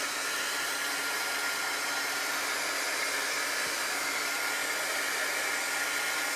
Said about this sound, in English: I'm going to just hit this with the heat tool for a couple of seconds here